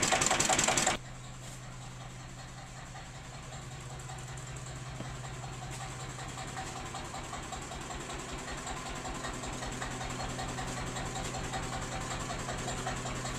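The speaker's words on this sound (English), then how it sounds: "So we're running some more fuel consumption tests on the Lister engine today." A Lister-type diesel engine on road diesel, turning an axial flux alternator at about 630 RPM, chugs steadily with a low rhythmic knock throughout, following a brief louder burst at the start.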